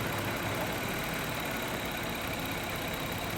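Steady close idle of a misfiring 2000 Toyota 3.0 VVT engine running rich, a dense continuous hum with a faintly irregular low-end beat and no voices over it.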